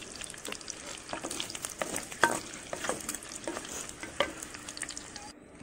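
Sliced onions fry in a pan for a Guntur-style egg fry, giving a steady close sizzle broken by soft clicks and scrapes from stirring, with no talk.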